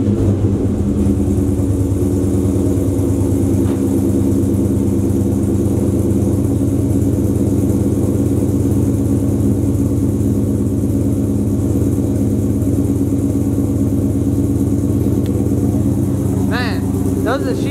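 Dodge Charger R/T V8 idling steadily after a warm start, a loud, deep rumble holding even throughout, with a brief voice near the end.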